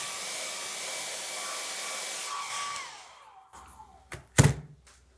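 A hair dryer blows steadily while drying watercolour paint in a sketchbook, then winds down and switches off, followed by a couple of soft thunks as it is set down.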